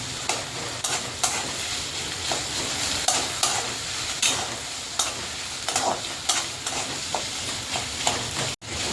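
Vertically sliced onion and potato sizzle steadily in a pan, with a constant frying hiss broken by regular scraping stirs of a spoon, close and loud.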